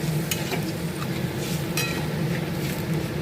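Olive chutney simmering in a pan with water added, a steady soft bubbling and sizzling texture with occasional light stirring clicks, continuous and close, with no talking.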